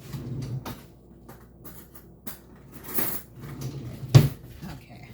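Metal cutlery clinks and rattles in a kitchen as a spoon is taken from a drawer, with a few soft knocks followed by one sharper clatter near the end.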